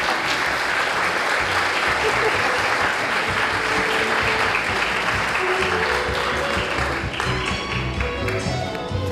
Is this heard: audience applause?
yes